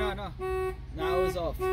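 A 2013 Infiniti FX37 car alarm sounds in repeated tonal honks in a steady on-off pattern, fairly close, with people talking nearby.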